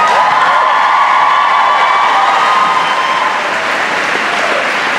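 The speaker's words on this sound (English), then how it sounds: "So applause for this guy." Loud, steady applause from a crowd, with some cheering and whoops mixed in, holding strong before easing slightly at the end.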